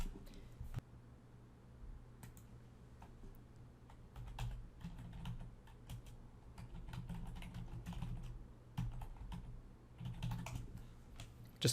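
Typing on a computer keyboard while setting up a website plugin, with steady clusters of quiet key clicks and taps running throughout over a low background hum, no voices.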